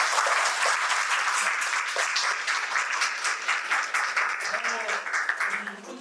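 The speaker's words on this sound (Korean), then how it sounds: "박수 한번 주시고요." A book talk audience gives a warm round of applause, dense clapping that stays full and close for several seconds before tapering slightly at the end, with a voice speaking faintly underneath.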